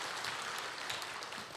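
A church congregation applauds during a Sunday afternoon worship service, a steady, dense wash of clapping that holds at an even level for the whole moment.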